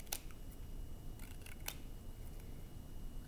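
A child cuts paper with scissors, making several quiet, crisp snips at irregular intervals over a faint, hushed room background.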